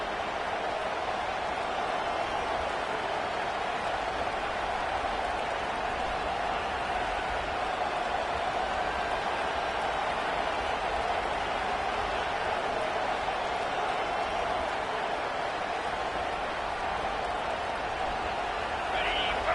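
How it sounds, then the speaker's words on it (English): A stadium crowd roars at a Notre Dame football game, a loud, continuous wash of cheering with no breaks, and a commentator talks over it. "This crowd bringing an ear-splitting welcome to their visitors."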